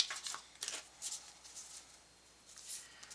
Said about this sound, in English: I'm going to shuffle a couple cards here and pull some new ones